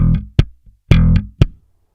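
Slap bass, with thumb slaps on the string and percussive left-hand taps on the fretboard, gives a few short, sharp bass hits and muted clicks in a quick, uneven rhythm, close and loud.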